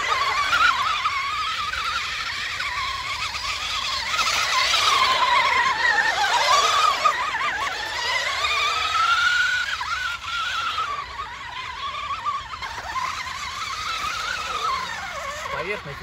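A GAZ-66 radio-controlled model truck running at high speed on a 3S battery over stony ground, its electric motor whining steadily and rising and falling in pitch as it accelerates and turns, with a voice talking now and then.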